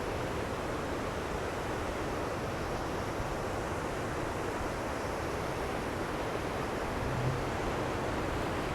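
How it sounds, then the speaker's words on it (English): Steady ocean surf at San Francisco, with fairly small waves, washes in a continuous broad roar, with wind noise blending in and no voices. "the waves are not too terribly big"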